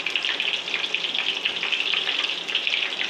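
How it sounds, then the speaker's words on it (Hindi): Mung dal with lemon fries in oil, making a steady, hissing sizzle of moderate loudness with a faintly bubbling texture and no speech. "इस तरह से फ्राई कर लेंगे।"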